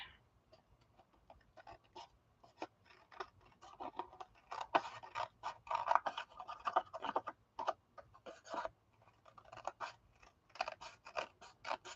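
Scissors snip through pattern paper while a card is being cut out, a quiet, close series of irregular crisp cuts and paper rustles with no talking.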